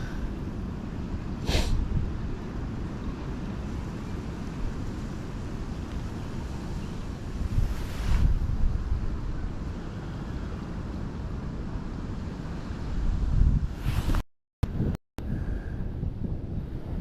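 Wind gusts over the River Thames in winter, a constant low roaring buffet against the microphone with a few stronger surges, a couple of brief dropouts near the end.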